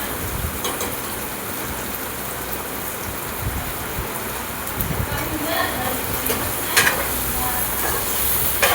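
Crushed peanuts are stirred into a frying curry of black beans and potato slices, with a steady sizzle, scraping stir strokes and occasional clinks, and a voice talking over it.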